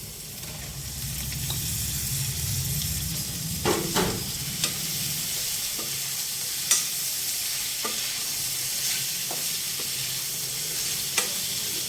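Boiled broad beans fry in a pan with ginger garlic paste, a soft steady sizzle with occasional stirring clicks and scrapes, fairly quiet and with no one speaking.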